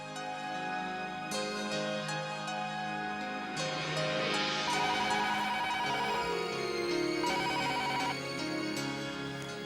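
A phone ringtone plays continuously during an outgoing call in a Hindi TV drama scene, a steady repeating electronic melody mixed with background score, with no talking over it.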